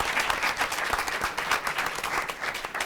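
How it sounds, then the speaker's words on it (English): An audience at a Warrensville Heights City School District board meeting gives a round of applause, dense steady clapping from a room of people lasting the full stretch, fairly close and loud. "a round of applause for that"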